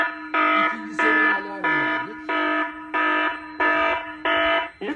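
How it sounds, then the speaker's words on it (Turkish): A fire suppression test panel sounds a second-level heat detector alarm, a loud, close electronic tone pulsing in seven even bursts with a faint voice underneath. "Isı dedektöründen ikinci seviye alarm veriyoruz."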